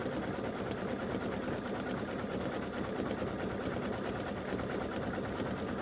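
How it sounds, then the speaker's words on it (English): An embroidery machine stitching letters runs in a fast, even mechanical chatter, steady and close throughout with no talk. "this is just going to stitch the Boo letters"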